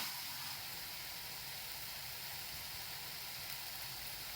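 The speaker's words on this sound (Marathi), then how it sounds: "दोन कांदे बारीक चिरून घेतले ते टाकते आणि हा पण चांगला याच्यामध्ये परतून घेते" Finely chopped onions sautéing in a hot kadhai, giving a steady, faint, even sizzle with soft crackling and no break throughout.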